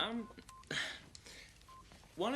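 Brief telephone keypad dialing tones beep a few times, mixed with voices talking and reacting around them.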